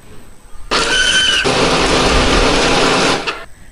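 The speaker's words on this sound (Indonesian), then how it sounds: "Hari ini aku menghaluskannya pakai blender" A kitchen blender grinds cooking ingredients blended with water, starting abruptly into a loud, steady motor whir that holds for nearly three seconds before cutting off.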